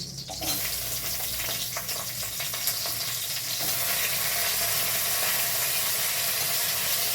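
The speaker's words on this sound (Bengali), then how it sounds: "এই তেলেই এবারে সবজিগুলো এক এক করে সব ভেজে নেব। এখন দিচ্ছি ফুলকপি।" Cauliflower goes into hot oil and fries for a vegetable navratan korma, producing a loud, dense, steady crackling sizzle that fills the whole stretch without pause.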